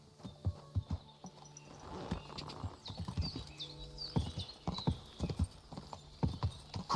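Horse hooves clip-clop in Kingdom Come Deliverance II, a steady run of distinct, fairly close hoofbeats with a brief whinny-like cry, over faint background ambience.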